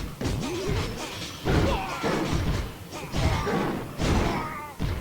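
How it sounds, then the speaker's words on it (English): Heavy thuds and crashing impacts from a mortar firing on barbarians in Clash of Clans, several booming hits spaced about a second apart amid battle clatter. "the mortar should be able to hit the barbarians"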